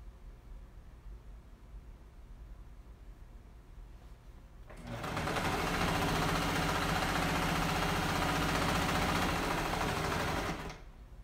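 After a few seconds of quiet room hiss, a sewing machine stitching a pillow starts up and runs in a steady fast whirring drone for about six seconds, close and even, then stops.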